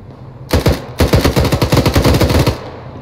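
Rapid bursts of automatic gunfire from an Arma 3 firefight, a loud sustained volley of tightly spaced shots lasting about two seconds with a brief break near the start, no talking.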